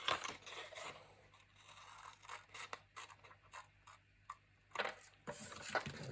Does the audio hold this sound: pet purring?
no